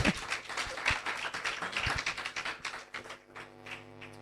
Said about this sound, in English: I think we can clap for them for that